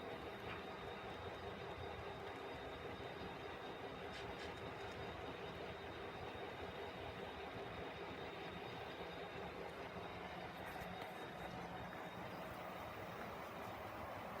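A model train climbs the helix on a layout, giving a continuous faint rolling rumble with light clicking of wheels on track, steady throughout.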